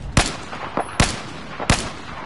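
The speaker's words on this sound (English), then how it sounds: "Are you shooting at that guy?" Gunfire in Battlefield 4, three loud, sharp shots spaced roughly evenly apart, with fainter reports in between, over low background game noise.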